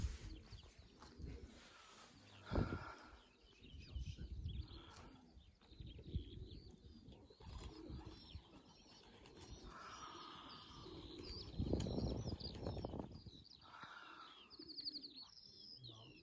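Pigeons coo softly and repeatedly in a pigeon loft among rustling and flapping sounds, with scattered chirps from other birds in the background.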